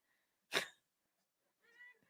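One short, sharp sneeze bursts out in a quiet room, followed a moment later by a brief soft vocal sound.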